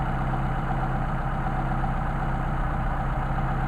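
A Mercedes 190SL engine idles steadily on Solex carburetors, a constant, even mechanical hum with no revving or changes, heard close and alone without any voices.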